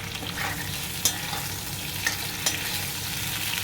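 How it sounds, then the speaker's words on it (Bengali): Potatoes fry in a pan over medium gas with a steady, even sizzle. A few light utensil clicks come through, and nobody speaks. "ততক্ষণ আলুটা ভাজা হোক।"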